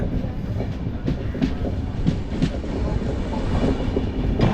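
The Brindhavan Express rumbles at speed across Basin Bridge Junction in Chennai, wheels clattering rhythmically over rail joints with a steady, close, continuous roar.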